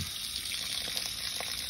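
Water spews steadily from a hose on a Jayco Journey caravan water tank, a continuous close gushing splash that stays loud and even throughout, with no talk.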